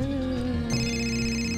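A telephone rings in the adventure game Fahrenheit, a sustained electronic tone that shifts pitch partway through, steady and moderately loud, with no voices.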